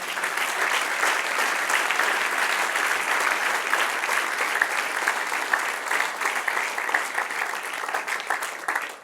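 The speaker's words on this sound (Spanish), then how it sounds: "Denle un aplauso al que reina." Church congregation clapping loudly and continuously, a dense sustained roar of many hands that stays strong from start to finish and tapers slightly at the end.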